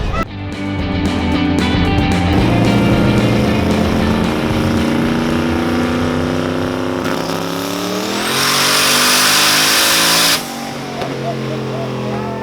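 A Nissan 240SX's turbocharged SR20DET engine roars at high revs on a dyno, pitch climbing steadily and peaking in a loud harsh burst before dropping back, running continuously close by.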